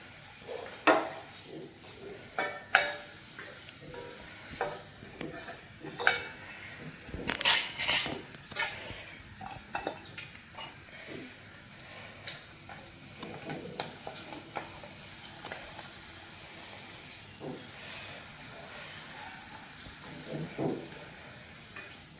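Sabudana and potato sandige frying in a pan, with soft crackling sizzle and intermittent scraping stirs and utensil clinks, moderately close and fairly quiet, no talking.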